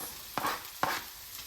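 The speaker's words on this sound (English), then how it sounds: "make sure you keep stirring because it will stick. But I'm going to add the veggies now. The veggies and the onions." Vegetables and onions being sautéed in a pan for a spinach plant-based lasagna, two quick stirring scrapes over a soft steady sizzle, close by and without speech.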